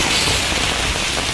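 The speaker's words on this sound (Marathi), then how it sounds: "जोरदार असा पाऊस पडतो" Heavy monsoon rain comes down outdoors near a market in Maharashtra as a loud, close wash of drops hitting surfaces, an even hiss with a few sharper patters and no voices.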